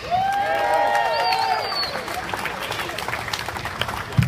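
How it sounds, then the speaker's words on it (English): An audience applauds as the final speaker, Nick Foulkes, is introduced. The clapping is a broad, sustained wash, with whistles and cheers rising near the start. "can you give a huge round of applause for our last and certainly not least of today's speakers, the larger-than-life Mr. Nick Foulkes"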